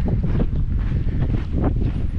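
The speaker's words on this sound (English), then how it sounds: "I don't know how you're gonna hear me because it's kind of windy today" Strong gusty wind at desert sand dunes buffets the microphone, rumbling low and roaring in uneven bursts close up.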